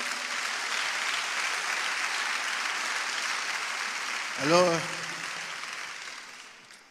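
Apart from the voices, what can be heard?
congregation applauding Waouh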